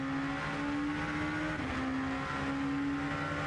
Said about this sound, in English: those cars making their trademark thundering rumble as they circulate Le Mans